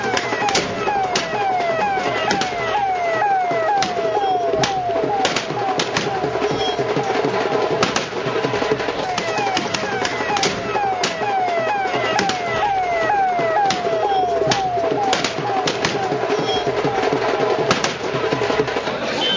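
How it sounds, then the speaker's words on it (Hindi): More than a hundred guns are fired into the air by party workers as a celebratory salute in Gwalior. The shots form a loud, dense, continuous crackle of overlapping bangs that never lets up, over a busy outdoor crowd din. "बीजेपी कार्यकर्ताओं ने 100 से ज्यादा बंदूकों से हवाई फायर किया"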